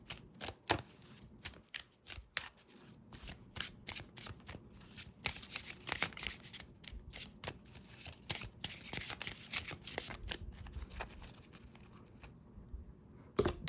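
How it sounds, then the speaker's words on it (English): Marvel Champions cards are shuffled over and over at close range, a steady run of crisp riffling flutters and snaps with brief pauses between passes. "And we also shuffle their deck."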